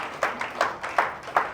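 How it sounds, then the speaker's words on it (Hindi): Audience claps in four short, loud bursts at a motivational business seminar, each burst a quick round of hands, with no talking over it. "एक बार जोरदार तालियां अपने सकारात्मक सोच के लिए बजाइए।"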